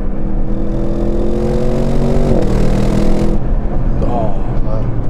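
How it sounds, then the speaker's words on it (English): A 2024 Audi RS6 Performance Avant V8 accelerating, a loud, deep engine growl with harmonics rising through the revs, a brief gear change midway, then easing off, with someone talking over it. "Got such a nice deep V8 growl."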